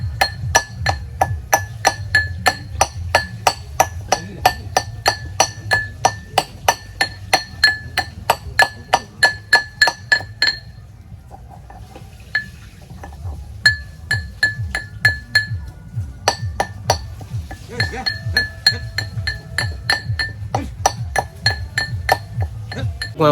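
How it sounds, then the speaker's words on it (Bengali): Ginger being pounded into paste at an outdoor winter picnic, with a steady run of sharp, ringing strikes repeating close and loud, a brief pause midway, and light chatter and background noise underneath. "এখন আদা পেস্ট করছি আমি।"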